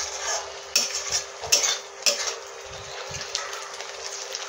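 Ground spice paste of turmeric, chilli, onion, ginger-garlic, grated coconut and cashew sautéing in a pan for cauliflower-potato curry, with a steady sizzle broken by several sharp utensil scrapes and clacks as it is stirred, close and alone.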